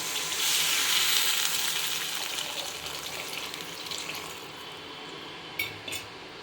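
Water pours into a cooking pan of onions and tomatoes, a bright hissing splash that starts strong and gradually fades, followed by a couple of small clinks near the end.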